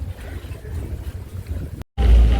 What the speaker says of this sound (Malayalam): നമ്മൾ ബോട്ടിൽ നമ്മൾ പൊക്കോണ്ടിരിക്കുകയാണ്.